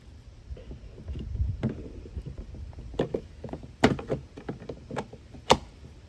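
Several clunks and plastic clicks as a Genesis GV80 fuel door is handled and pressed into place, with a couple of sharper snaps near the end.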